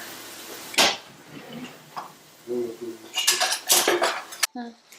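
A large metal spoon and dishes clink and clatter in a few sharp bursts during cooking, with a voice murmuring briefly between the rattles.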